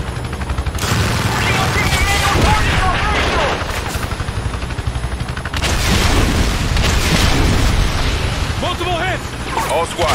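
Air-strike explosions from a bomb run in the Call of Duty: Ghosts campaign: loud, dense booms and roaring blasts in two heavy waves, one near the start and another around the middle, with gunfire, aircraft noise and shouted radio chatter throughout.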